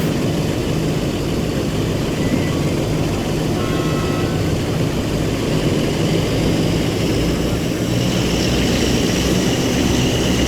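A half-century-old DE 24000 diesel locomotive in Train Sim World on the Taurus Mountains route, its engine pushed past 900 RPM: a loud, continuous, dense roar that stays steady and overwhelming for the whole stretch.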